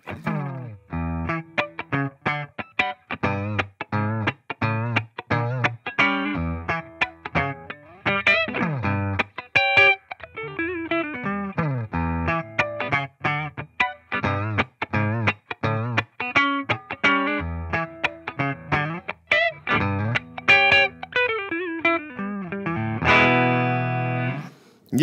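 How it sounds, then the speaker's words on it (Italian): A Yamaha electric guitar plays funk on a clean tone with no reverb: tight, choppy muted strums and short chords in a steady syncopated rhythm, dry and close, ending with a ringing chord. "se io tolgo il riverbero posso tranquillamente suonarci del funk"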